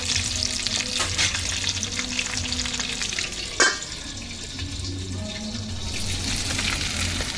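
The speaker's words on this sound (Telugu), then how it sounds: "అన్ని పీసులు ఫ్రై చేసుకోవాలి" Chicken pieces fry in hot oil for a biryani with a steady, close crackle and sizzle. A single sharp clack from the utensil cuts through midway.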